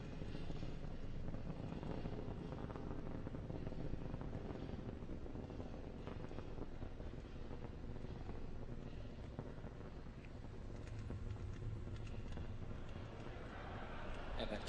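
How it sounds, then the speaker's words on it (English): A SpaceX Falcon rocket carrying a Dragon capsule on the CRS-11 launch rumbles steadily and faintly during ascent, a broad distant roar heard under a speaking voice. "the rumble is still audible as Falcon and Dragon ascend through the atmosphere"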